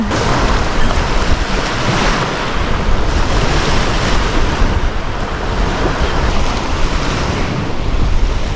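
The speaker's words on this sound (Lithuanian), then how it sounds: "Bangos" Sea waves roll and wash in a loud, constant roar, with strong wind buffeting the microphone throughout.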